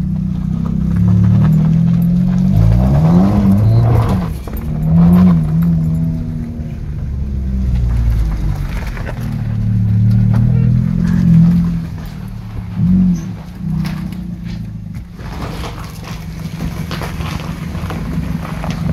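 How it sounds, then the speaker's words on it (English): A car pulls away at a carport clean-up, its engine a loud, close rumble that rises and falls with wind buffeting over the microphone and no talk. "You going for a drive"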